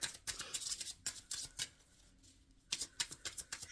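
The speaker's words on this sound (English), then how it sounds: "Shuffling for the collective" Tarot cards shuffled by hand: crisp, papery riffles in quick bursts, a short pause, then more rapid flicks, close and quiet.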